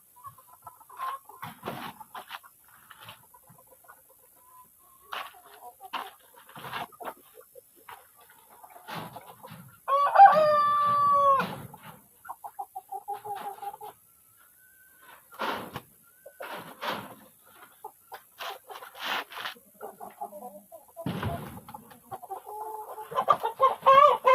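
Chickens clucking around a rooster at close range, with a burst of louder squawking midway and scattered clucks and calls throughout, on a Malaysian farm where the birds' dirty feet are being washed.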